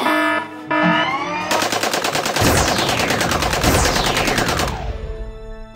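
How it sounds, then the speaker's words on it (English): Rapid machine-gun fire used as a sound effect in a brick stop-motion film, a dense rattling burst with sweeping whooshes layered over it, loud and continuous for several seconds before cutting off. "ready to fire, sir. Fire."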